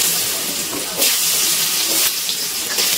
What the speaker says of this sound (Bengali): এবার কেটে রাখা আলুগুলো দিয়ে দিচ্ছি তেলের মধ্যে।